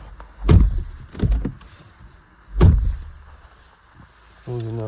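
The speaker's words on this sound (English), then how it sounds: "Closing that door." The door of a 2020-onward Nissan Juke is shut: three solid, close thuds land at uneven intervals, and a brief buzzy tone follows at the very end.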